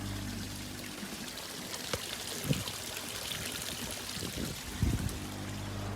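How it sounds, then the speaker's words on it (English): Water trickles steadily out of a plastic pipe on a three-barrel filter setup, making a soft continuous pouring hiss with a couple of small splashy bumps, fairly quiet over a low background hum. "this plastic pipe here, it's only trickling out of it"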